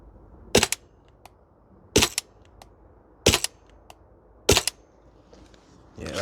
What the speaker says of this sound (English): We just want some long range shots.